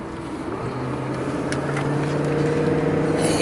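A 1978 Cadillac Eldorado Custom Biarritz barn find cruises down the road, giving a steady low engine drone and road rumble from inside the cabin, continuous and fairly loud with no talking.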